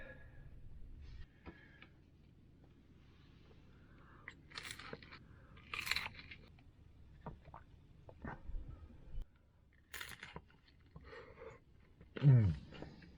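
Crunchy tortilla pizza made from two pan-stiffened tortillas, eaten in a van at a state forest camp: irregular close crunching and chewing bites with small mouth noises, quiet between bursts, a louder crunch near the end.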